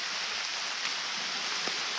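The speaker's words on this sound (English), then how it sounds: "The rain's picking up." Rain patters steadily on a poncho draped over a hunting vest during a spring turkey hunt, a dense close hiss with a few louder drops.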